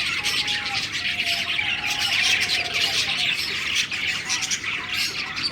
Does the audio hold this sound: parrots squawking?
yes